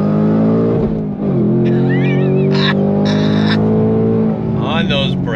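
A 2024 Ford Mustang Dark Horse in track mode accelerates hard, its engine roaring loud and steady with rising pitch, while brief tire squeal and a speaking voice cut in over it.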